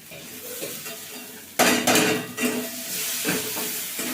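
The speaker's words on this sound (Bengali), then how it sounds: "মশলাটা এর সঙ্গে ভালো করে মিশিয়ে নেব।" A spoon stirs spices into a bean filling for kochuri in a pan, scraping and clattering against the metal over a soft sizzle, with louder bursts of stirring partway through.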